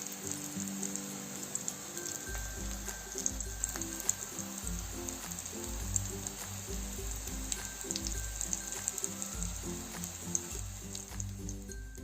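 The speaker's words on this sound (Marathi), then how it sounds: "कटलेट आधी छान असे फ्राय होऊन द्यायचे बारीक गॅसवरती" Paneer cutlets fry in a pan over a low flame, giving a faint, steady sizzle with light crackles that sits beneath louder rhythmic background music throughout.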